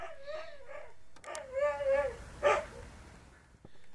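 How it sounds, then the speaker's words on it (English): Young hunting Labrador Retrievers shut in a truck whine and yip with excitement, with one sharper bark near the middle. The dogs sound fairly close, over a low background hum. "you can hear some of the excited young dogs in the truck that are watching some of this"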